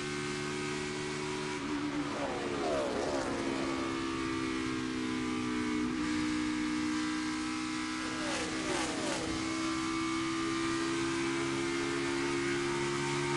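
A NASCAR Cup Series stock car drives into turn 1 during a race, its engine a loud, steady drone that dips and rises in pitch as the driver lifts and gets back on the throttle, with more cars roaring past in the background.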